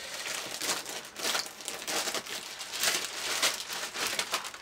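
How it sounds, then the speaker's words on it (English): Plastic bag crinkling as a Corsair Raptor K30 gaming keyboard is pulled out, a run of close, irregular rustling bursts with no talking. "I'll just take the keyboard out of its bag."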